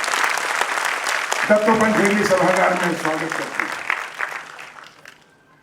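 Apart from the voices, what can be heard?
audience applause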